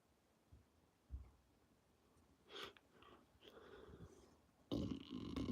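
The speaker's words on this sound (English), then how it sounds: "Excuse me, that was a burp." A single low, throaty burp from a man who has just eaten a Frito pie, close to the mic and fairly quiet, with soft breathing and faint rustling around it.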